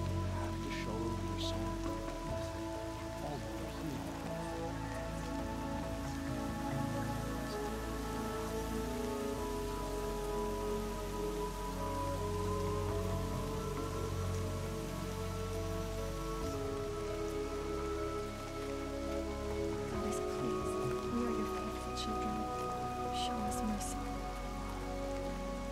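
Steady, dense rainfall pattering on surfaces in the video game Horizon Zero Dawn, continuous and close throughout, with faint low rumbling and a few sharp drip ticks mixed in.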